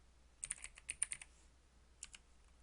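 Computer keyboard keys are pressed in a quick burst of light clicks, a pause, then two more taps, close and quiet in a still room.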